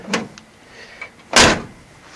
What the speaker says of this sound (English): Passenger side door.